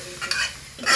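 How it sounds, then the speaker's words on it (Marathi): A spice tempering sizzles in hot oil while being stirred in a pan, a close, steady crackling hiss with brief scraping swells of the spoon, heard alone over about a second. "फोडणी विशेष म्हणजे फोडणी छान बसतीये."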